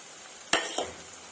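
Egg curry ingredients fry quietly in oil, with a faint sizzle beneath two quick spoon scrapes against the pan.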